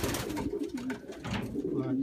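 Racing pigeons in a loft, young 2015 birds in dark checks and blue bars, cooing steadily and close by, low murmuring calls overlapping throughout with a faint voice beneath.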